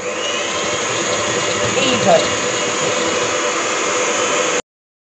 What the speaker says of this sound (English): I'm going to use the electric mixer again to whisk this through until the mixture is even